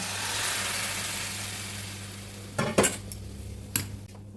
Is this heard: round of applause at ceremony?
no